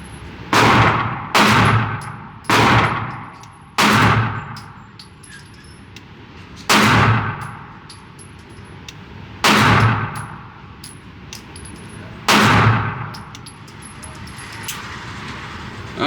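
A Walther PDP Match steel-frame pistol fires at steel targets, seven sharp, loud shots each followed by a ringing metallic clang, spaced irregularly with quiet pauses between.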